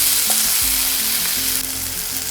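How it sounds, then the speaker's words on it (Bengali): Chopped tomatoes and ginger paste frying in a pan, a loud continuous sizzle over a low steady hum, with a few stirring scrapes. "টমেটোটা হালকা ভাজা ভাজা করে নিয়েছি।"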